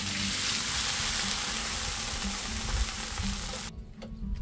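Pork ribs sizzle and fry in a pot, a steady loud hiss with stirring that cuts off sharply near the end as water goes in to braise them with bamboo shoots.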